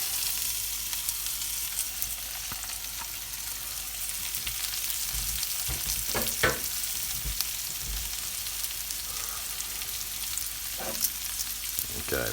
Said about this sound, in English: Now we will add our potatoes in.